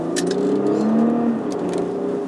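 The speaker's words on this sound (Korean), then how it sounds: "지금 기아를 다시 올려보고 악셀을 킥다운을 해볼게요" A Porsche Cayenne E-Hybrid engine revs up steadily under hard kickdown acceleration, a rising hum with a whirring electric tone, close and continuous.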